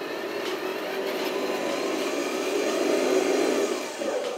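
A toy IVECO 4x4 hydraulic dumper truck with a two-speed gearbox runs in low gear, giving off a steady, close electric motor and gear whine that holds evenly throughout with no talking.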